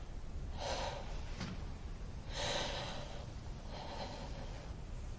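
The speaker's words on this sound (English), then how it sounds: "Some big breaths in and out." A patient takes deep breaths in and out during a GP's chest examination, three slow, breathy inhalation-exhalation cycles, close and fairly clear over a steady low background hiss, with no talk.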